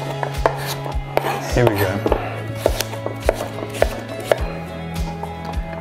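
Sharp, rhythmic knife chops cutting a pumpkin into cubes on a cutting board, loud and close with irregular gaps between strikes, and a brief spoken phrase.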